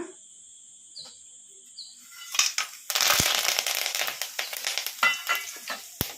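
Spices hit hot oil for tempering, a few spoonfuls of oil heated in a pan for cashew masala rice: a quiet start, then a sudden loud sizzle and crackle with scattered sharp pops, fading slightly as it settles.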